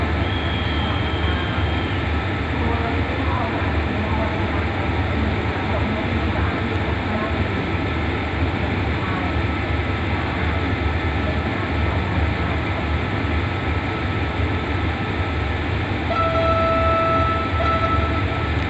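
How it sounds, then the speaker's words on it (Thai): Special express train 14, with QSY 5206 and Hitachi 4503 locomotives hauling JR passenger coaches, departs Nakhon Lampang station in Thailand in the evening. A steady, loud diesel engine rumble drones throughout, with faint tonal whines in the background. "ตอนนี้ก็ได้เวลาปล่อยขบวนรถด่วนพิเศษขบวนที่14ออกจากสถานีนครลำปางครับ"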